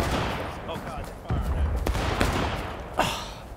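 Musket volley fire in the War of Rights video game, a dense crackling fusillade of many shots with sharper cracks standing out, loud and close, with a voice shouting briefly over it.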